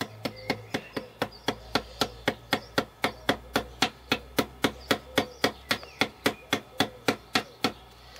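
A hammer taps on a wooden chainsaw carving during crack repair in a fast, even rhythm, about three sharp knocks per second, close by and with no talking.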